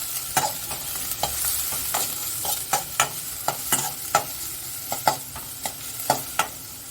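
Ginger pieces fry in hot oil for a fish curry masala, a soft steady sizzle broken by repeated sharp scraping strokes of a stirring spoon against the pan, close and alone.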